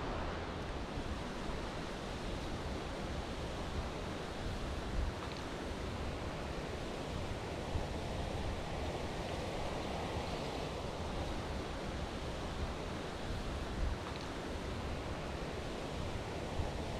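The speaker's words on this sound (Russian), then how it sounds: "Река шумит." Steady broadband rushing of a river in Grindelwald, Switzerland, continuous and fairly loud throughout with no voices.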